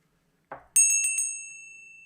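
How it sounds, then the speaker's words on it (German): A small bell is struck once during a Viennese folk-music livestream, preceded by a soft knock, then rings out bright and clear with a few quick pulses before a long fading shimmer. "Was für ein Ton hat das Glöckchen?"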